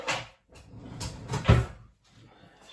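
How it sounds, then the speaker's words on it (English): Rummaging through a kitchen drawer while cooking air fryer breakfast patties: a series of close wooden knocks, slides and clatters in uneven bursts, with short pauses between them and no talking. "I'm messing in the drawer because as usual, I'm not as well prepared as I should be."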